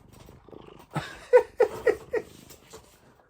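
A house cat purrs and vocalises close by, a soft rumble broken by four or five short, rhythmic pulses, fairly quiet and alone.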